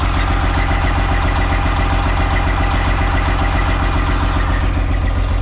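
A cabover truck's diesel engine idles up with a steady, loud, close drone and deep rumble that holds constant throughout, with no voices.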